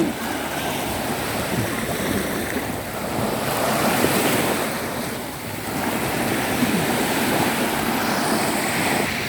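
Sea waves wash ashore at Koh Kood island, Thailand, in the late afternoon near sunset at low tide. The surf is a steady, loud broadband rush with wind buffeting the microphone, and nobody speaks.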